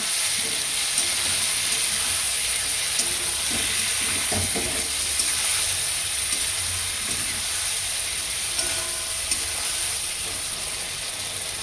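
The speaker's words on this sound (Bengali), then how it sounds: "ধনে গুঁড়ো, পেস্ট করা মশলা দিয়ে দেবো। ভালো করে কষিয়ে নেব।" Spice paste with coriander powder sautéing in a pan for a bottle gourd and crab dish makes a constant, loud frying hiss, with only faint occasional stirring taps.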